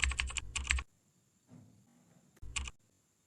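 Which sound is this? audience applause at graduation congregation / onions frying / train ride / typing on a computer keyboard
typing on a computer keyboard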